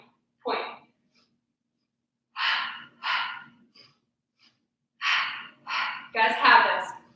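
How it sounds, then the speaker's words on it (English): Loud, deliberate breaths during an exercise routine: one long inhale or exhale, then slow paired breaths in and out separated by quiet gaps, ending in a heavier, broken breath. "Inhale, and exhale."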